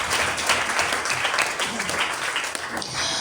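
Church congregation applauding during a sermon, a steady wash of clapping from many hands that stays loud and dense throughout with no talk on top.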